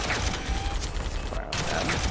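Units trading fire in the Warhammer 40,000 Armageddon strategy game, a dense, continuous rattle of weapons fire with a brief dip in the middle, loud and steady throughout.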